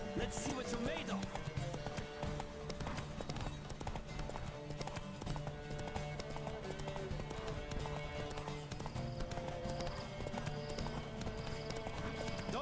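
Rhythmic hoofbeats of a galloping horse in The Witcher 3 run steadily throughout, layered with game music and occasional voice.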